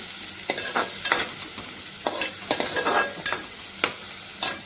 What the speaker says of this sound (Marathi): कांदा व्यवस्थित आपण परतून घेऊया